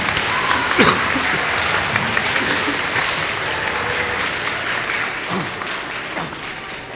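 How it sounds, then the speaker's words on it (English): Audience applause fills a school spelling bee, a steady dense wash of clapping from a crowd that holds evenly for about seven seconds, with a faint voice or two underneath. "So let's give everybody a round of applause."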